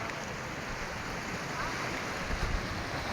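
Ocean waves meet and wash together near an island, making a continuous broad rushing hiss with wind noise on the microphone and slight surges toward the end.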